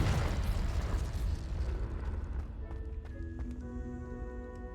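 The Confringo fire spell in Hogwarts Legacy goes off as a loud, rumbling explosion that swells at once and slowly decays over several seconds into a lingering tonal hum with faint taps.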